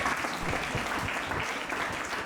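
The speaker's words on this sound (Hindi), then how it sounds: "तालियां" A church congregation applauding during a sermon, a steady, fairly close wash of many hands clapping throughout, with faint voices underneath.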